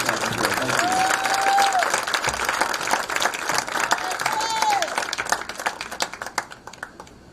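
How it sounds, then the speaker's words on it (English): A crowd at a high school senior athletic awards ceremony applauds student athletes. Dense clapping fills the room, then thins into scattered claps and dies away at the end. "A round of applause to our winter, spring, and fall student athletes."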